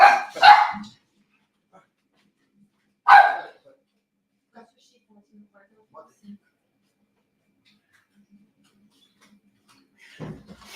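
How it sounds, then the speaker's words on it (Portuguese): A pet dog named Cacau barks indoors in a few sharp, close bursts: two right at the start, another a few seconds later and one more near the end, with long quiet gaps between. "Ela tá latindo para você?"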